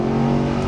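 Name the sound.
Mercedes SLS AMG exhaust accelerating onto freeway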